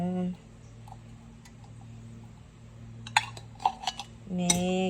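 A utensil clinks against a dish while sardines are mixed in a home kitchen, several light metallic taps clustered together over a steady low hum, with a voice speaking briefly at the start and end.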